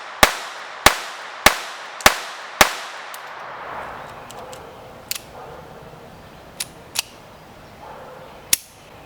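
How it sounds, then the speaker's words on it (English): A Ruger LCP II .22 LR pistol fires CCI Mini-Mag rounds, five sharp evenly spaced shots in quick succession, then quieter clicks and handling noises. "The CCI mini mags ran flawlessly through this handgun."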